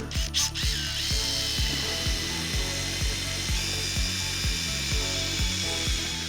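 A power drill bores mounting holes into a boat's bow for a Minn Kota Ulterra trolling motor, loud and close with a rapid ratcheting, pulsing rhythm of repeated bursts and a few sharp knocks at the start.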